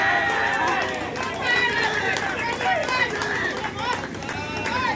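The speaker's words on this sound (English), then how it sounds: "Look at the cheer." Crowd cheering and roaring at a cricket semi-final, a dense continuous wall of voices and shouts holding steady and loud throughout, with chatter woven into the noise.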